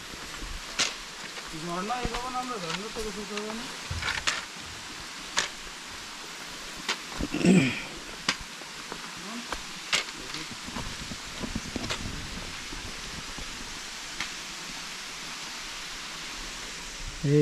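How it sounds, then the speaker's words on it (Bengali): Sangpra waterfall, a low-flow hillside cascade, gives a steady broadband rush throughout, with speech drifting in and out above it. "এখানে পানি ঝর্ণায় খুব কম, শব্দ বেশি"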